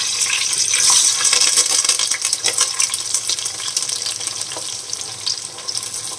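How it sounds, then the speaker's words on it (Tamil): Peeled small shallots sautéing in a pan for a vanjaram fish curry make a loud, steady hiss and crackle, close by, with faint stirring scrapes and no voices. "சின்ன வெங்காயம் நல்லா வதக்கி எடுத்துக்கலாம்"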